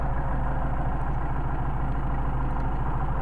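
A Mercedes 190SL with Solex carburetors idles around 800 RPM, a steady, even low rumble with a fast regular pulse, close and constant throughout with no other sounds.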